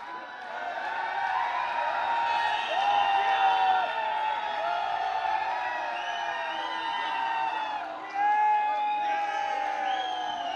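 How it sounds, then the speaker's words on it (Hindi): A large audience at a leadership development program breaks into loud sustained cheering and whooping with applause throughout, swelling again near the end, with shouted voices mixed in. "जोरदार तालियां आप लोगों के लिए"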